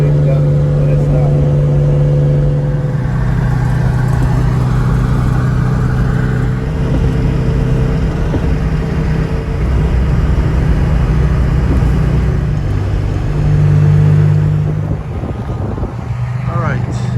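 A TVR 280i with a minor oil leak cruises on the road, its engine a steady low drone mixed with road and wind noise, while a person talks over it.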